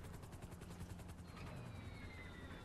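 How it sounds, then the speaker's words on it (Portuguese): A helicopter in GTA 5, its rotor thumping in a fast steady rhythm under a whining engine, continuous and fairly close. "O helicóptero vai bater no cara"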